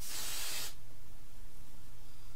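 A short, bright hiss from an Avon curl-to-curl hair mist spray bottle, one burst lasting under a second, close and alone, followed by quiet room tone.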